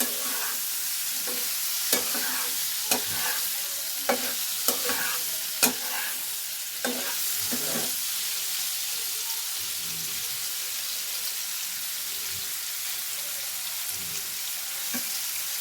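Paneer cubes are stirred with a pinch of Kashmiri chili in a frying pan, a soft continuous sizzle broken by sharp spatula scrapes and clicks against the pan, with no voices.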